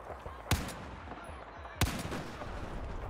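Gunfire in Battlefield 4's campaign, two sharp single shots about a second apart, each with a short tail, over low game ambience.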